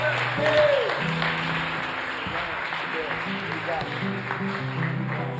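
Church congregation at a Portuguese-language evening service applauding, moderate clapping under talk and sung phrases from a leader, steady throughout.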